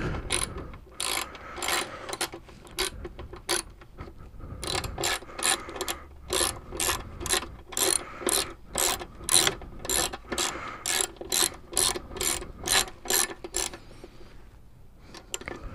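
A hand ratchet tightens a fitting on a painted part in quick bursts of close, crisp clicks separated by short pauses, carrying on steadily.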